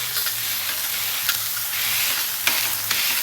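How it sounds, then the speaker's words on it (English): Burger patties sizzle steadily on a Camp Chef flat-top griddle, a continuous close frying hiss with brief spatula scrapes and pops as they are flipped. "we're gonna flip them over just a hair"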